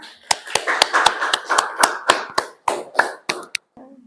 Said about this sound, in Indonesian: Tepuk tangan dong untuk teman kita semua yang sudah menyimpulkan